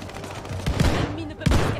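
SVT-40 rifle fire in the video game Call of Duty: Vanguard comes as two close, loud bursts of shots about a second apart.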